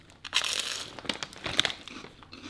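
Crisp crunching and crinkling bites of pork rind chicharrones, several sharp bursts spread over a couple of seconds, close and fairly quiet with no talking.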